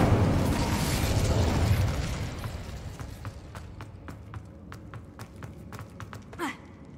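A fiery Incendio spell cast in Hogwarts Legacy, a loud roaring burst that fades over a couple of seconds, followed by scattered faint clicks and ticks and one brief swish near the end.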